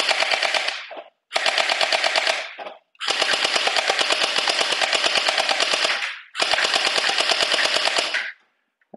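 Overwatch Tracer Pulse-style electric gel ball blaster firing full-auto, four loud, close bursts of rapid buzzing shots, the longest about three seconds, with short gaps between.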